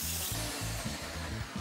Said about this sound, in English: I'm doing this really carefully, as the belt sander can just rip through the wood